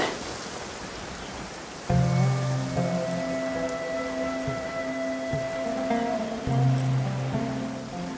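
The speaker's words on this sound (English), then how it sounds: "It's raining again." Continuous rain in the video game Genshin Impact hisses and patters evenly, joined partway through by low sustained musical tones that swell and hold beneath the downpour.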